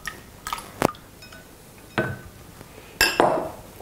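Liquid cake batter ingredients, including coconut milk, stirred in a bowl, a few separate clinks and knocks of a utensil against the bowl with soft sloshing between them, close and fairly clear.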